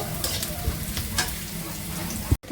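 Cumin seeds crackle and sizzle in hot oil, a steady close frying hiss with light stirring scrapes and a brief knock near the end.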